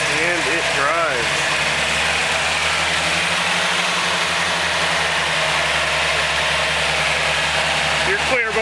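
A Datsun 521 pickup's engine runs steadily as the vehicle drives while being moved to a backyard, a loud, close, continuous rumble with brief voices at the start and end.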